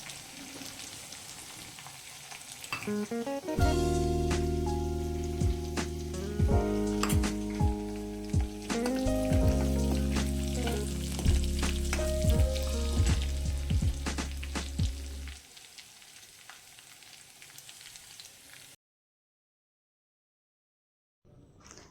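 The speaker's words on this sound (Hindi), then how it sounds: "मैंने लहसुन हरी मिर्च का पेस्ट डाल दिया है तेल में।" Garlic and green chili paste frying in hot oil, a continuous sizzle with stirring and clinking utensil sounds, broken by a bright sustained ringing tone midway, then fading to silence.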